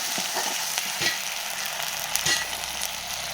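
Spice masala with garlic paste frying and being stirred in a pan, a steady close sizzle with occasional scraping clicks from the spoon, no voices.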